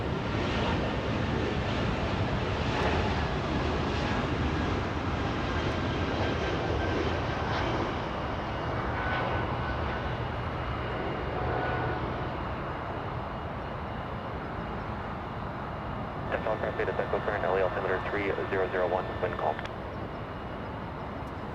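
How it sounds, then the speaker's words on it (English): A Volaris airliner taxiing north on taxiway Lima at LAX, a steady broadband engine rumble held throughout at moderate distance, with talk over it and a brief tonal radio-like burst near the end. "That's Volaris taxiing north on Lima, the taxiway that we all know and love"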